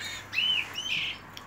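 Small bird chirping in a garden with plants, two clear high whistled calls, moderately near and alone against faint background.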